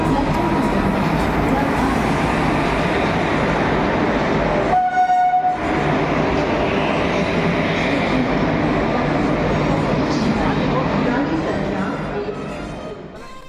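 A passenger train rolls into Patna Junction with a loud, steady rumble of wheels and carriages, a brief horn blast partway through, and the noise easing slightly toward the end.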